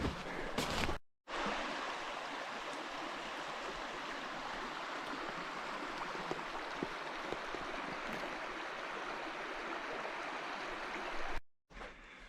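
A mountain creek near an abandoned ghost town flows in a constant, even rush of water, fairly quiet and unbroken, with a couple of brief handling bumps at the start and end.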